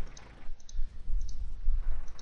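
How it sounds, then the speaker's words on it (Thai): Computer mouse double-clicking during a World of Tanks session, a few sharp, quick clicks heard close over a low background rumble, no voice. "เมาส์มันดับเบิ้ลคลิกนะครับขออภัยด้วย"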